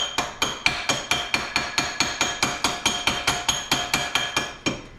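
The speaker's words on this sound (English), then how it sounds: "You got to give it a good tap with a hammer" A hammer taps metal about twenty times in a quick, even rhythm, knocking welding slag off a 1987 Dodge D100 rear suspension, each strike a sharp, ringing clink close to the listener.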